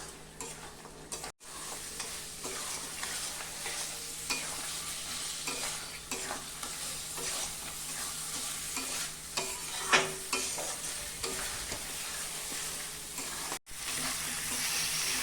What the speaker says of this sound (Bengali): আমি ভালো করে একদম কষিয়ে নিব, যতক্ষণ তেল না আসবে ততক্ষণ পর্যন্ত আমি কষাবো।